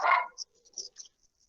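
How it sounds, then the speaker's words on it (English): A pet dog barks indoors in a few short, sharp yaps, one louder bark followed by fainter, scattered ones, close by and with no talk over them. "my dog is barking out"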